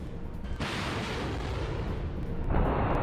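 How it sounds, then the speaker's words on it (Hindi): Rockets fired toward Jerusalem produce a continuous loud roaring rumble with dense crackling, shifting in character partway through, like a launch or barrage heard in news footage. "यरूशलेम में IDF के ठिकानों पर दागे रॉकेट"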